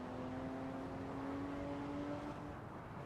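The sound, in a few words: car engine in video game Assetto Corsa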